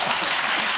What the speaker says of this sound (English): They're groaning and clapping at their own jokes.